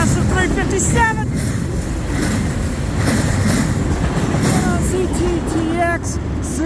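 CN freight train M357 rolling past at Ladysmith, a loud, steady rumble with clickety-clack of wagons and high wheel squeals rising and falling throughout.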